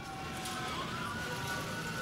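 Emergency siren wailing steadily through the night in a busy Kuala Lumpur neighbourhood, sustained tones rising over a dense, noisy urban background.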